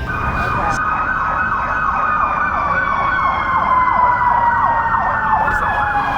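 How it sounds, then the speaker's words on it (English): Emergency vehicle sirens wail in rising and falling sweeps near the LA Triathlon course, steady and fairly loud, with a faint voice briefly underneath. "Alright, sirens in the background."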